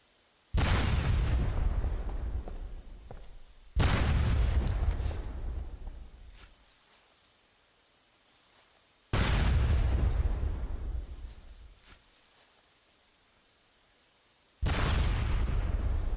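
Grenade blasts from the video game SOCOM, four separate loud explosions spaced several seconds apart, each a sharp boom that decays into a long rumbling tail before the next one hits, with no voices.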